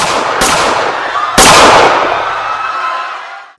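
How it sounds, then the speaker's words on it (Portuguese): Two sharp, loud gunshot cracks from a .38 caliber revolver close by, the second followed by a long fading echo, with no voices. "3 disparos"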